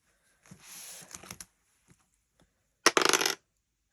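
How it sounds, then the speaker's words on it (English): Dice are rolled during a savings challenge game, giving two short bursts of clattering rattles, a quieter one first and then a louder, sharper one, with no one talking. "This one is a roll the dice."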